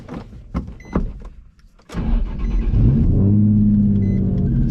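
A Nissan Z with 133,000 miles and a stock clutch is started with the key: a few mechanical clicks, a brief cranking whir, then the engine catches and settles into a loud, steady idle rumble close by.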